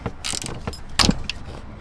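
A van security shear nut is wrenched tight in a short run of close mechanical clicks and ratcheting creaks, with a sharper crack near the middle as the head snaps off.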